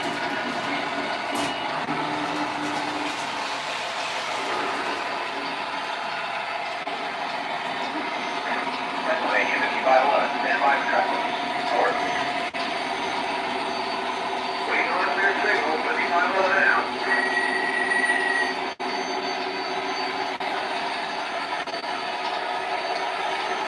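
MTH model train running on a home layout, a continuous rumbling motor hum with clicking wheels and intermittent whistle-like tones, people talking over it throughout.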